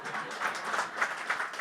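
An audience claps together as a rehearsal during an interview event, a lively, uneven patter of many hands rising and falling in short swells, fairly close and loud.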